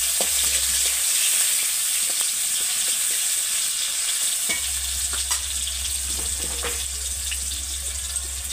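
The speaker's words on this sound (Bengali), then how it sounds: "এবার আমি ওই তেলেতেই টমেটো কুচি দিয়ে দেবো, পেঁয়াজ কুচি দিয়ে দেবো" Chopped tomato and onion fry in oil, a bright continuous sizzle with scraping stirs, over a low steady hum that drops out briefly near the start.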